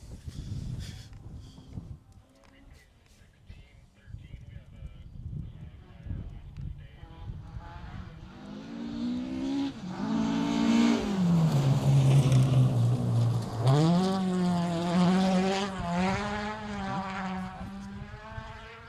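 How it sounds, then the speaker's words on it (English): A rally car engine approaches from faint to loud, revving hard with rising and falling pitch as it speeds past nearby on a mountain stage, with some outdoor background noise. "you guys listen to this car coming through"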